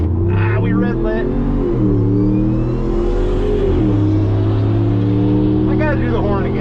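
A 2019 Ram Rebel pickup truck at full throttle on a drag strip: loud, close engine roar climbing through gears in rising and dropping sweeps, with a voice briefly audible over it.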